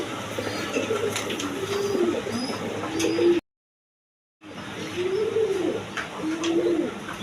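Pigeons cooing in repeated low, rolling calls, close by, with a brief silent gap midway before the cooing resumes.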